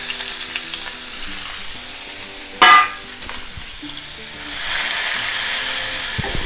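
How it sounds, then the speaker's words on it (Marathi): Finely chopped onion fries in oil in a home kitchen pan, a steady low sizzle running throughout, with a brief sharper burst near the middle and the hiss swelling louder toward the end; no one speaks. "हा एक बारीक ना चिरलेला कांदा आपण तेलामध्ये चांगला त्याला परतून मऊ करून घ्यायचा आहे"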